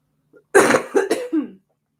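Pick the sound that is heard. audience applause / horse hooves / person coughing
person coughing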